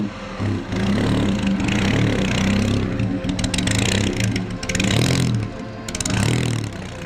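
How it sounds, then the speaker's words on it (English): A loud car engine at the Pebble Beach car show rumbles and revs continuously, rising and falling in pitch with throaty exhaust roar, close by and steady throughout. "we hear the real engine, we hear the exhaust, we hear the backfire"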